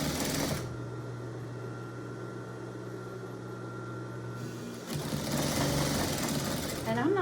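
A sewing machine stitches a fabric apron at close range, whirring briefly, then stopping while a low hum lingers, then starting up again in a second steady run.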